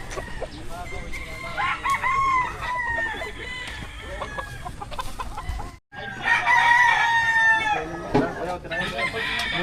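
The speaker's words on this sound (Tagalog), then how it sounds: "Daming manok oh." Chickens cluck busily while a rooster crows loudly nearby, with voices murmuring in the background throughout.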